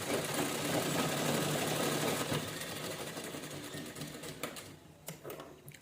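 Sewing machine running continuously as it stitches fabric pieces together for a cloth organizer bag, a dense close mechanical whir that slows and breaks into a few separate clicks near the end.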